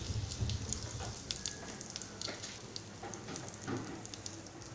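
Asafoetida (hing) hits hot oil for a Malvani-style chicken rassa, giving a bright, crackling sizzle that hisses steadily and close up, with scattered spitting pops and no voices.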